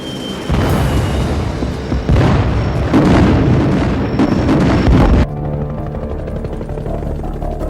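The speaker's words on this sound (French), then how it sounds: "Au-dessus de lui, les B-52 américains bombardent continuellement les troupes de l'ANV." American B-52 bombers pounding enemy troops: heavy, continuous booming explosions rumble loudly for several seconds, then cut off abruptly into a quieter low drone.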